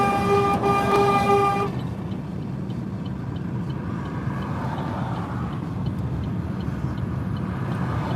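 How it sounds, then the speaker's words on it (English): Car horns honk in a loud sustained blare at a protest convoy travelling from Moose Jaw to Regina, then give way to steady road and engine rumble with faint distant honks. "Oh, we hear more honking."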